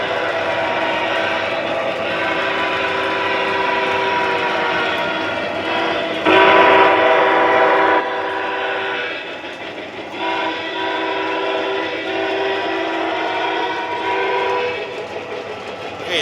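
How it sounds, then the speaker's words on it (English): Upgraded model train engine running on a layout, with a loud steady horn-like tone and rolling rumble that carries throughout, briefly swelling louder midway, no talk. "Now here comes our upgraded engine."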